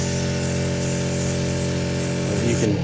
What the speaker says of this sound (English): It does bubble or foam up coming out of the wand, not so much out of the boom.